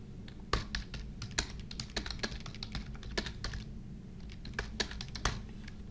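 Steady typing on a computer keyboard into a text box in yearbook design software, with close, rapid keystrokes and occasional sharper clicks running throughout, no voices.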